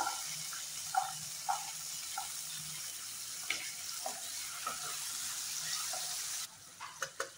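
Green peas and tomato frying in a pan with a steady, moderate sizzle, plus a few light clinks and taps; the sizzle cuts off near the end, leaving brief knocks.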